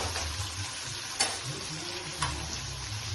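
Paneer pieces frying in a pan give a soft, continuous sizzle, with two sharp clicks of a spatula or the pan. The cooking sounds stay quiet and close, with no voices over them.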